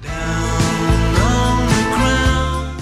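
A short excerpt of a computer-generated pop song plays, with full instrumentation and a sung melody line over it.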